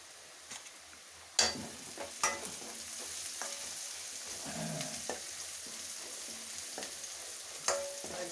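Onions sauté in a pan for a wedding-style vatha kuzhambu, with a soft continuous sizzle broken by a few sharp scrapes and clinks of a spoon stirring against the metal.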